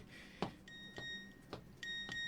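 A phone text message notification chirps in a short series of quiet electronic beeps with clear tonal pips, repeated several times in a steady rhythm with no voices.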